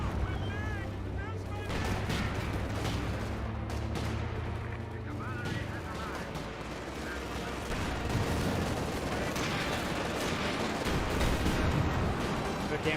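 Tank cannon shots and artillery fire from the Company of Heroes 2 battle game boom and rumble through dense, continuous combat noise, with booming low blasts and crackling impacts, and a voice talks over parts of it.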